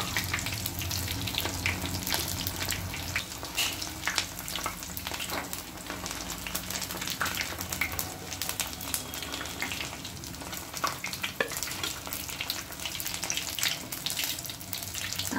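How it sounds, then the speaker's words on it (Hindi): Paneer lollipops coated in crumbs fry steadily in hot oil, a dense continuous crackling sizzle with faint occasional clinks, close and fairly quiet, with no one speaking. "फ्लिप करके फ्राई कर लेंगे अच्छे से।"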